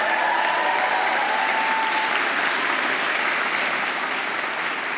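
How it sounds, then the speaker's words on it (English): An audience at a city council inaugural ceremony breaks into sustained, loud applause, a dense wash of clapping that fills the room for several seconds and slowly eases off. "One more round of applause"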